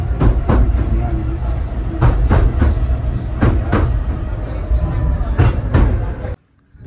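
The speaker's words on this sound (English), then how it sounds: "On a train." Passenger train rolling across a river on a seaside trip, heard from inside a carriage: a loud, continuous rumble punctuated by regular wheel clacks over rail joints, with faint voices, cutting off abruptly near the end.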